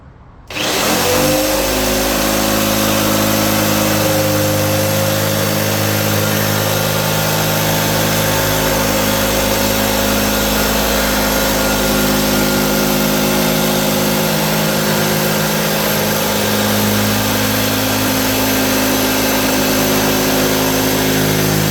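A jigsaw with a fine, high-tooth-count metal blade cuts through a composite panel on a Brightdrop electric van, starting abruptly and then buzzing loudly and continuously with a steady, slightly shifting pitch for about twenty seconds.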